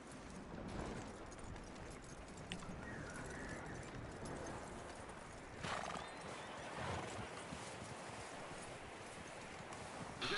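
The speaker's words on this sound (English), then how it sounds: "That looks like a decent horse. You should keep him." A horse in the open-world game Red Dead Redemption 2 clip-clops steadily over ground and neighs, hooves continuous and close throughout with occasional louder whinnies.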